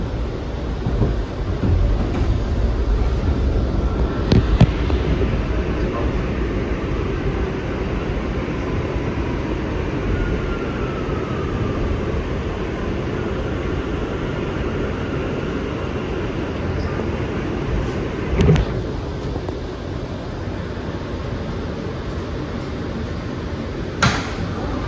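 Steady rumble and rattle of an MTA New York City Subway R179 train running on the Rockaway shuttle line, heard from inside the car as a continuous ride noise with a few brief clanks and bumps along the way.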